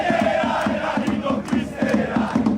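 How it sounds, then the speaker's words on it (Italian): Palermo football fans at the Barbera stadium chanting in unison, a loud rhythmic crowd chorus with steady repeated beats, dense and close, in a hot, humid city setting. "Cori, fumogeni ed entusiasmo travolgente per tanti affezionati"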